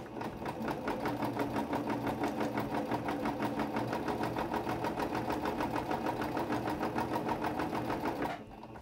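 A sewing machine stitches a dish towel in a fast, steady mechanical whir with an even rapid pulse, running continuously at close range before stopping abruptly near the end.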